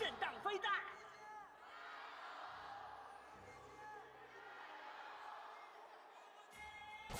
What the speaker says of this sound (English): Let's listen into those crowds, shall we?